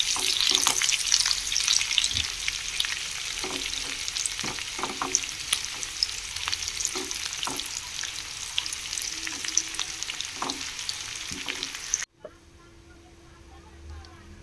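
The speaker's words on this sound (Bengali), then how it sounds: "পেঁয়াজ কুচিটা দিয়ে দেব। দিয়ে পেঁয়াজটা ভেজে নেব লাল লাল করে।" Finely chopped onion frying in oil while being stirred, a loud continuous sizzle with repeated scraping and clinking of the spoon, then an abrupt drop to a faint hum near the end.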